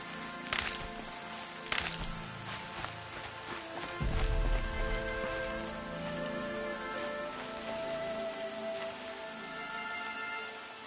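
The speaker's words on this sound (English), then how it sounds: "More rain. My boots will get damp." Steady rain pattering on surfaces in the video game Horizon Zero Dawn, a constant wash of drops with a few sharper splashes early on and a low rumble midway, moderately loud and without voices.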